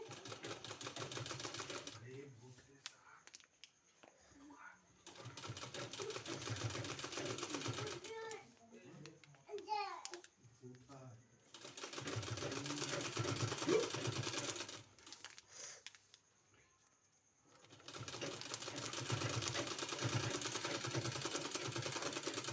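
Sewing machine stitching a narrow pant in bursts of rapid mechanical whirring, several runs separated by pauses where a voice speaks.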